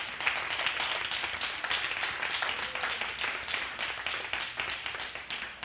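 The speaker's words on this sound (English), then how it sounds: "Come on, clap your hands." A church congregation claps hands during a worship service. The clapping is brisk, scattered and continuous, moderately loud in a reverberant room, with no clear talk over it.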